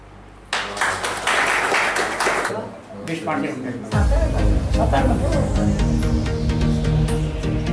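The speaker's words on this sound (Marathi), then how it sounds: "त्यांच्यासाठी आपण एकदा सगळ्यांनी टाळ्या वाजवूया" An audience at a senior citizens' health check-up camp at Sanjeevani Hospital, Satara, breaks into clapping. Sharp claps begin, dip briefly, then swell into dense, sustained applause close by, with voices mixed in.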